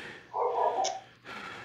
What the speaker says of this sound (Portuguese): os cachorros estão metendo a louca